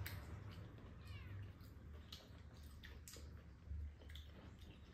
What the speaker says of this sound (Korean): 고양이가 우네.